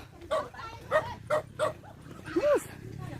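A dog barks and yips several times at a moderate distance while people talk in Vietnamese during a walk through a rural northwestern Vietnam area with táo mèo fruit trees.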